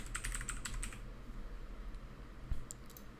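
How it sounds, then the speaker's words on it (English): Keys clatter in a quick burst of typing on a computer keyboard during the first second, then a few isolated clicks follow over a low steady room hum. "So I'm going to select the text tool and I'll type in something like maybe, dope motions"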